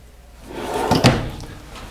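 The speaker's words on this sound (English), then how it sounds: "There's also a storage drawer under the stove." A storage drawer beneath the stove in a 2017 Coachmen Chaparral 336TSIK RV kitchen slides and thumps shut, a brief close wooden rumble with a small knock near the middle, heard alone.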